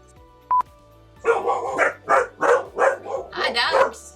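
Several sharp, close dog barks follow one another in a quick run after a short beep, loud and distinct.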